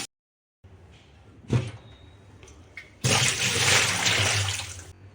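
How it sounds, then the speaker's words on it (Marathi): A clay water pot (matka) washed by hand: a few soft knocks and scrapes, then a loud rush of pouring water lasting about two seconds before stopping abruptly, close by. "आता आपला माठ अतिशय स्वच्छ धुवून घेतलेला आहे"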